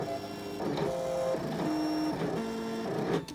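A ScanNCut cutting machine cuts a design into adhesive, its carriage motor whirring in short changing-pitch strokes, close and steady, with no talk.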